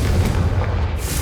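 Confringo fire spell blast in Hogwarts Legacy, a dense, booming low rumble that fills the short moment without any separate distinct crack, close and loud with no voices.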